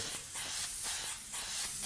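An airbrush sprays magenta paint onto a T-shirt in a soft, close hiss that pulses in about four short passes, with no talking.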